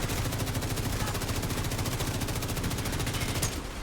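Rapid automatic gunfire in the shooter game The Division 2, a fast steady stream of loud repeated shots lasting several seconds before stopping, with no talking.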